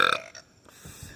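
A person lets out one loud, throaty belch at the start that quickly fades, followed by quieter low rumbling sounds, close to the microphone.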